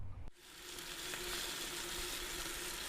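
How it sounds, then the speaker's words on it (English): Bacon and eggs frying in a pan on the cooker unit of a converted Nissan NV200 campervan, a steady close crackling sizzle that begins abruptly and continues evenly without talk. "There's not much to beat the smell of cooking bacon and frying eggs in a campervan."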